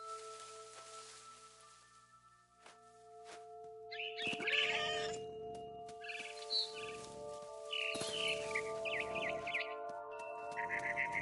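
A cat meowing in the game What Remains of Edith Finch, several distinct yowling meows in bursts over a steady tonal game music bed, with faint bird chirps in the scene.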